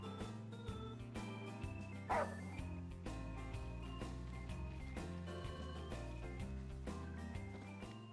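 A dog in the Final Fantasy 15 video game gives a short bark or yip around the two-second mark, set against continuous background music that plays throughout.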